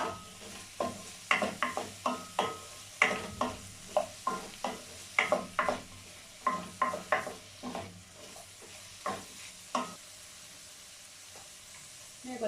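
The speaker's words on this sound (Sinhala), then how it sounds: "මම රම්පේ හැවලි ටිකයි අමු මිරිසුයි එකතු කරගත්තා" Curry leaves and green chillies fry in hot oil, a steady sizzle broken by a regular series of sharp scraping stirs from a spoon against the pot.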